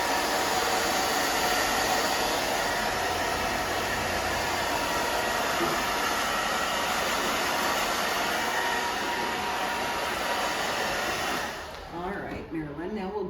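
Hair dryer blowing steadily and loudly up close during a women's short haircut, a continuous whooshing roar that cuts off near the end.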